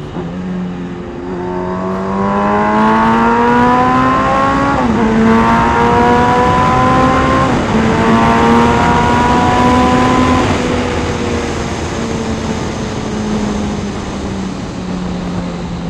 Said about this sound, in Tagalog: Downshift tayo dito sa tunnel.